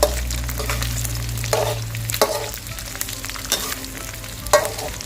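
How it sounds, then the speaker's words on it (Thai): Crispy pork being stir-fried in a pan over medium heat to re-crisp it, a steady close sizzle of hot oil with several sharp spatula scrapes and stirring knocks, no voices. "อันนี้ผมเอามาคั่ว ให้มันมาหอมกรอบอีกครั้งนะครับ"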